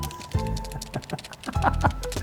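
A child mimics typing on a computer keyboard, tapping out a quick, uneven burst of close, light clicks over about two seconds.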